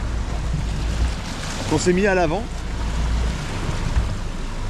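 A sailboat's engine drones steadily at sea, a low continuous hum beneath wind and water noise, while a person speaks briefly over it.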